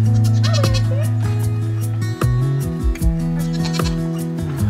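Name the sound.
goat bleating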